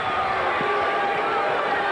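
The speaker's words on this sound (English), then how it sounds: "Student body here gives him a nice cheer" A student crowd cheers in a college basketball arena during a VCU versus Richmond game in 1996, a steady, moderately loud roar that runs the whole time under a commentator's voice.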